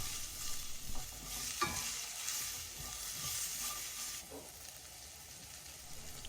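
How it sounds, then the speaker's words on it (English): Sliced shallots fry in oil in a hot pan with toasted peppercorns, a steady close sizzle under clattering stirring strokes that ease off into a softer hiss. "And now add your sliced shallots."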